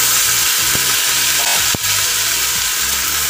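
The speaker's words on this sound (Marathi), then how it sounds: "आता हे चांगले भाजूया तुपात।" Rice with cardamom and cloves fries in ghee in a kadhai, a loud continuous sizzle with a few scraping stirs and one sharp clink partway through, no voices.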